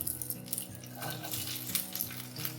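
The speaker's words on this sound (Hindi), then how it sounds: "इसी के अंदर हम अपनी वेजीज को फ्राई कर लेंगे" Chopped vegetables such as carrot sizzle and fry in a little oil in a pan for chicken chow mein, a steady close crackle with occasional stirring and clinks of utensils against the pan.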